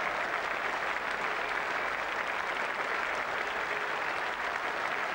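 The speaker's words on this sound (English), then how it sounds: "acknowledging the applause of the crowd and his West Indies colleagues" A cricket crowd at a West Indies Test match applauds steadily as Brian Lara passes 150 runs, a broad, continuous wash of clapping heard from a distance for the whole stretch.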